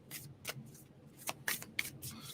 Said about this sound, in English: Okay, one more shuffle, please.